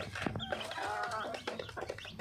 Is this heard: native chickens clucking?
yes